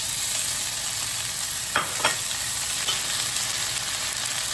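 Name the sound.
cooked shredded pork added to pan, stir-frying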